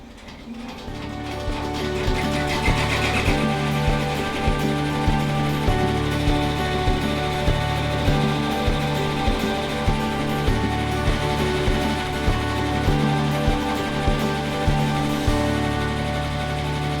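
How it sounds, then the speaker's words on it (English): An embroidery machine stitches a design onto a baseball cap, giving a steady mechanical clatter and hum. Rapid, regular needle ticks run evenly over a constant motor drone and continue without pause throughout. "now we'll let the machine stitch the design"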